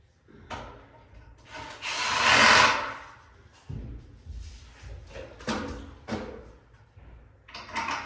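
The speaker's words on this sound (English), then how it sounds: "I'm screwing into these where these boards are." A screw gun drives long screws into the boards of a concrete form, giving short whirring and grinding bursts with woody creaks and knocks in between, close and fairly loud.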